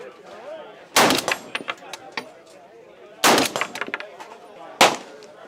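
A no-recoil AR-10 rifle firing .308 at SHOT Show 2023: three loud, crisp shots spaced unevenly over a few seconds, each trailed by echoing clinks and rattles, with faint voices between them.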